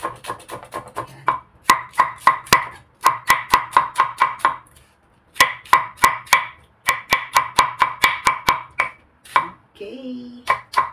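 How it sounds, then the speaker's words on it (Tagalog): A knife chops ingredients such as onions for a Filipino chicken-feet and pork-hock adobo, making quick, crisp, rhythmic strikes on a cutting board in bursts separated by short pauses, close and clear. "hiwain natin muna itong mga sangkap natin bago natin ilalagay lahat sa may kawali"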